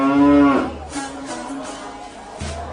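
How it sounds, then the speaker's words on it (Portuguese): Cattle lowing as they walk along a road: one long, deep, loud moo opens, followed by quieter lows and shuffling, then another moo starting near the end. "Então as vacas foram diretamente para a cidade de Bet-Semes, andando e mugindo, sem se desviar do caminho."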